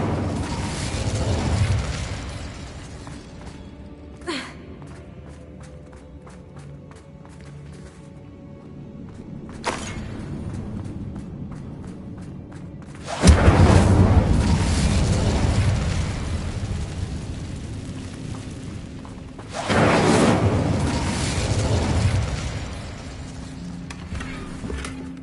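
Several deep, roaring fire blasts from the Incendio spell in the Hogwarts Legacy video game burst out at intervals, each swelling loud and then fading, with quieter clanks and creaks in between.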